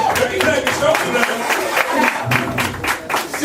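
Clapping from an open mic poetry audience in a café, scattered and loose, under a voice talking throughout.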